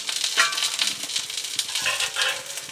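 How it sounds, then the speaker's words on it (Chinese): Crucian carp fry in oil in a wide pan, giving a steady close crackle and sizzle with small spitting pops, and no voices over it. "期间如果咱们把这个鱼煎的像这样两面金黄的这种，咱们就可以给它先夹出来"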